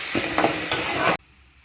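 Chana dal and other ingredients being sautéed and stirred in a hot pan, a steady loud sizzle with scraping stir strokes that cuts off abruptly near the end.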